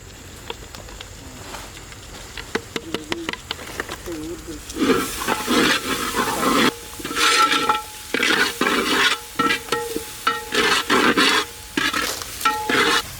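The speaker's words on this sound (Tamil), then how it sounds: "இப்போ மசாலா நல்லா ஃப்ரை ஆயிடுச்சு." Masala frying in a large pot for marlin fish head gravy, with rhythmic scraping strokes of a stirring spoon over a steady sizzle that grows louder and busier in the second half.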